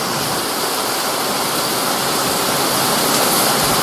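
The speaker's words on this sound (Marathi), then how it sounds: "हे बघा इकडे लगेच धबधबे पण चालू झाले बिल्डिंग मध्ये." Heavy Mumbai monsoon rainwater pouring off a building in waterfall-like streams, a loud, continuous broadband roar of falling water with no break.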